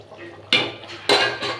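Fried shrimp are stirred in a cooking pot with two loud bursts of a metal utensil scraping and clattering against the pot, separated by a short quiet pause, with no talking.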